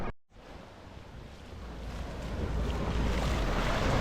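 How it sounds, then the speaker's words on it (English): Ocean waves breaking at Waikiki Beach, Hawaii, make a broad rushing surf that swells steadily louder after a brief dropout at the start, with wind buffeting the microphone and no voices. "I just wait for the wave to come so it doesn't knock me over"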